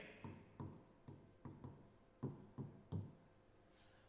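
Chalk or marker writing on a board during a lecture, about nine separate stroke bursts of scratching and tapping that come close and fairly quiet, with no talk over them.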